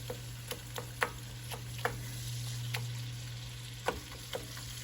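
Mild pork sausage, a one-pound package, sizzles steadily in a pan as it is broken up, with sharp scraping clicks of a utensil chopping it at irregular intervals over the constant frying hiss.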